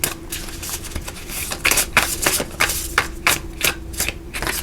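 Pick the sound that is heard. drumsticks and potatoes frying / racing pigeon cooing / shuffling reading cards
shuffling reading cards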